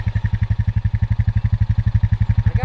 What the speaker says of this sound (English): This four-wheeler could not manually shift for some reason.